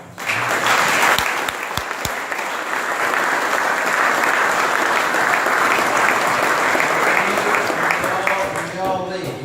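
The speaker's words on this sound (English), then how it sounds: "I think Ms. Greenley would appreciate a round of applause." Sustained audience applause at a field day dedication ceremony, a dense steady wash of many hands clapping for about nine seconds, with a few voices and cheers rising near the end.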